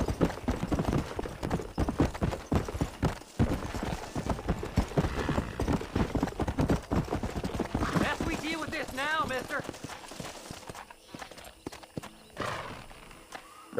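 Hoofbeats clop steadily from a horse in Red Dead Redemption, with a whinny near the end, while someone speaks Spanish over the game sound.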